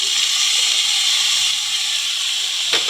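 Potatoes added to a cooking pot of vegetables give a steady, loud steaming hiss that runs throughout, with a brief sharper burst near the end and no voices.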